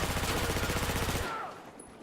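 Rapid automatic rifle fire from a Battlefield game, a dense, steady burst of shots that cuts off sharply after about a second, leaving a brief quiet tail.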